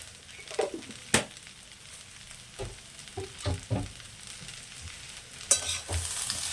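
Soaked rice with sugar being stirred and fried in a pan for basanti pulao, a low sizzle broken by several sharp spatula scrapes and clinks, quiet between strokes.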